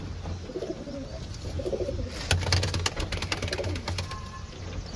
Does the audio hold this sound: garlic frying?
no